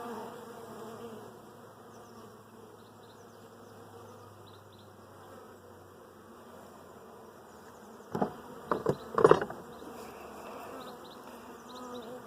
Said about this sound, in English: I'm going to sweep those bees into that hive